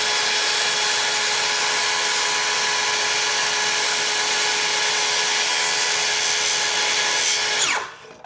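A power tool cuts through a vinyl seal at an angle, a steady, loud, continuous whine with strong tonal harmonics that runs for most of the clip, then winds down and stops near the end.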